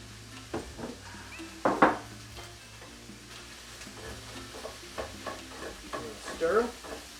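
Carrots and mushrooms frying in a pan and being stirred, a soft close sizzle broken by scraping utensil knocks against the pan at an uneven pace.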